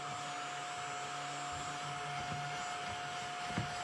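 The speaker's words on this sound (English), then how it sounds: "So I have this vacuum. It is so cool. And it sucks up all your little" A small desktop vacuum on a craft desk sucks up the little backings from dimensional adhesives, giving a steady, close whirring drone with a steady high tone and a faint click near the end.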